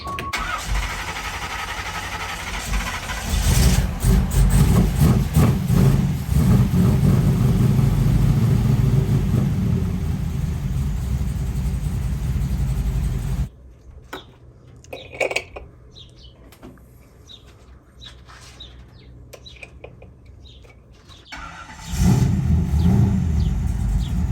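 A 1986 Camaro Z28 with a rebuilt 350 engine starts and settles into a loud, steady rumbling idle. The rumble drops to a quieter stretch with scattered clicks and knocks, then returns at full strength.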